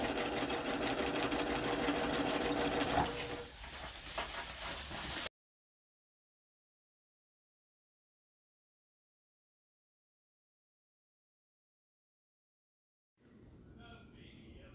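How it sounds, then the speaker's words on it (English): A sewing machine double stitches tent fabric for a single-wall tent, a fast steady mechanical whir for about five seconds, then silence before it starts up again more faintly. "Everything is being double stitched."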